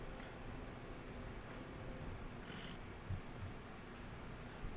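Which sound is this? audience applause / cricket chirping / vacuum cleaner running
cricket chirping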